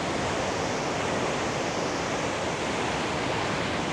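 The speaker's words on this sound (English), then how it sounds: "you can literally feel the ground shaking with the power of this water rushing over this edge" Victoria Falls pours over its edge in a massive, continuous roar of rushing water, loud, broad and steady throughout with no pauses.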